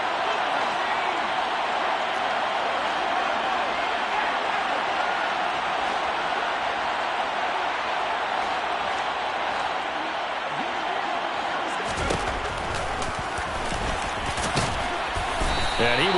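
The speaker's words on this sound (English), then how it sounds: "The crowd getting into it as we come up on a big third down." A football stadium crowd roars steadily ahead of a big third down, a dense, unbroken wash of noise with a commentator talking over it.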